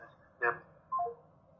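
Two short telephone dialing tones sound in succession over a quiet background, each beep brief and clear, one after the other.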